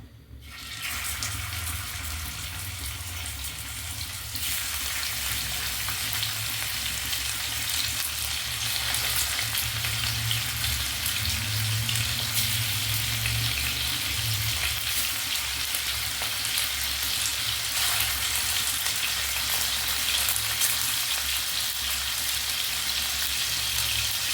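Chicken pieces fry lightly in hot oil, giving a loud, close, continuous sizzle that starts abruptly and holds steady for over twenty seconds with no talking.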